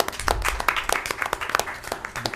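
A county freeholder meeting audience applauds the first Pride flag raising in county history, a brisk round of clapping from a modest crowd with scattered sharp claps throughout.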